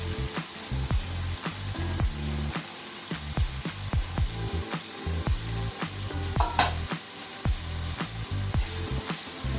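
Tender jackfruit thoran sizzling and frying in a pan, stirred with steady repeated scraping strokes close up, loud and continuous with no talk.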